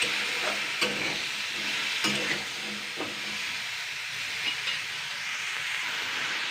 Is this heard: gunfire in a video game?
no